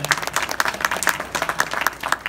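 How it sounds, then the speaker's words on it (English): Applause from an audience at a gathering, a short run of scattered hand claps close by and moderately loud, with irregular individual claps rather than a dense roar. "You can applaud that."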